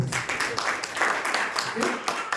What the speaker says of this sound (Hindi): जोरदार तालियां हो जाओ